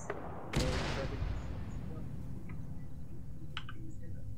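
An artillery gun fires a single round during a field training exercise: one sharp, heavy boom that rolls out into a long, decaying rumble, heard from a moderate distance over steady wind and background noise.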